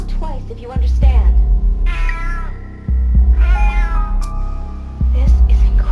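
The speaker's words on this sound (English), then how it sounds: "Meow twice if you understand." A cat meows several times in a row, each call rising and falling, with a low steady hum running underneath and pauses between the calls.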